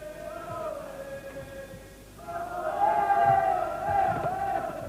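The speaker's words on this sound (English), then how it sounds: "There's a cheer of ole ole from the remaining boxers of the Irish team." A boxing match crowd of remaining Irish team boxers chanting ole ole, a sustained sung chorus that swells louder in its second half with voices blending over arena murmur.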